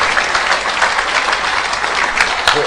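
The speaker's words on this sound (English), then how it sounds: "Clap for Jesus Christ" A church congregation applauds during a live service, dense continuous clapping that stays loud and even throughout, with a few sharper claps near the end.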